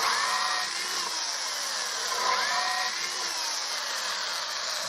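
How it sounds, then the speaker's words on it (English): Power drill boring a hole in wood for an outdoor bench, a continuous whining motor with slight pitch shifts as the bit bites, steady and close for several seconds. "So I think I will drill a hole in there for that, in preparation for that."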